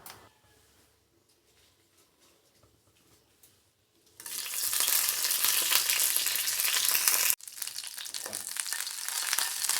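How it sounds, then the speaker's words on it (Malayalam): Mustard seeds, curry leaves and dried red chilies hit coconut oil in a pan. After a quiet stretch, a loud crackling sizzle bursts in, breaks off briefly, then resumes at full strength. No one speaks. "ഒരു പാൻ അടുപ്പത്ത് വെച്ച് അതിൽ 1/4 ടീസ്പൂൺ വെളിച്ചെണ്ണ ഒഴിച്ച് അതിലേക്ക് 1/4 ടീസ്പൂൺ കടുക് ഇട്ട് ഒരു തണ്ട് കറിവേപ്പില,"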